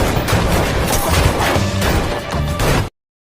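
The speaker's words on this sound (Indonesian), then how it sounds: "Dan baku tembak pun tak bisa dihindarkan." Gunfire from a film shootout sounds as a dense, loud barrage of crashing shots and impacts for about three seconds, then cuts off abruptly into silence.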